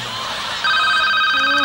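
A mobile phone rings with a steady electronic tone during a Thai comedy troupe's stage skit. It starts abruptly partway through and holds loud and sustained over a noisy background, with no talk over it.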